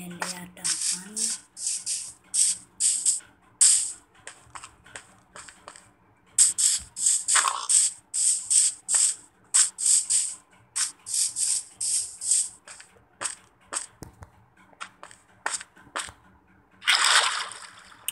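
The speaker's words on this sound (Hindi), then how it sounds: "नदी है, नदी से ले आता हूँ पानी।" Watery splashes and sloshes from collecting river water with buckets in Minecraft come in quick repeated bursts, clustered in several runs with short gaps between them.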